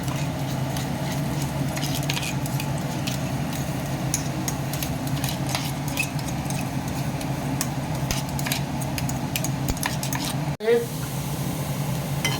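Ground green chilli, dried coconut, garlic, coriander and cumin masala sautéing in a pan, a low steady sizzle with light ticking spatters and occasional utensil clicks, and a brief clunk near the end.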